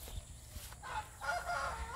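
Chickens squawk and cluck faintly in the distance in Miri, Sarawak, on Borneo, with a louder burst of calls toward the end over a quiet outdoor background.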